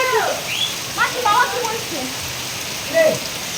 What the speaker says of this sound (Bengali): সুন্দর বৃষ্টি হচ্ছে বাইরে ও